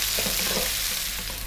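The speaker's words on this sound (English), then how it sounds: "To that I'm going to add 1 cup of onion, and we're going to go for about 4 minutes, stirring often." A cup of onions frying over above-medium heat while being stirred often, a loud, dense, close sizzle with soft stirring scrapes underneath, continuous throughout and with no voices.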